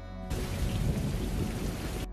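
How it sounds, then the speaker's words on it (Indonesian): Heavy rain and thunder from a stormstorm crash over hills with rocks for shelter, a dense steady roar with low rumbling that fills the whole span after a quiet start, loud and close with no voices. "berlindung di balik batu dari terpaan hujan"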